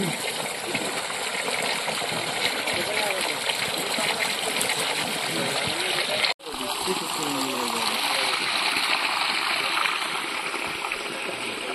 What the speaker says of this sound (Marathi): त्या खड्ड्यात चाललं का पाणी?